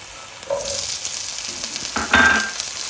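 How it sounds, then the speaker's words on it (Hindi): Green peas hit hot oil in a pan for chicken fried rice, giving a steady close sizzle that swells with a brief louder burst near the end, alone with no talk. "मटर के लिए हम पहले थोड़ा सा ऑयल डालेंगे और इसके अंदर हम डाल देंगे मटर"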